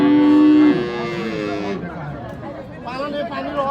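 A Friesian cow with her calf at a busy cattle market gives a loud, close, drawn-out moo that tails off, while the crowd chatters and people talk around her.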